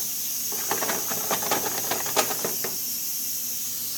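A frying pan sizzles with broccoli in a home kitchen while a pressure cooker hisses steadily, the soft continuous hiss carrying under a burst of crackling, spitting pops that rise for a couple of seconds and then fade.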